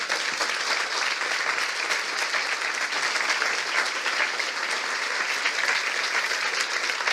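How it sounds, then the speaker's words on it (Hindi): Steady, dense applause from a church congregation clapping in worship, loud and continuous throughout with no pauses. "आइए प्रभु के लिए एक अच्छी ताली बजाएंगे।"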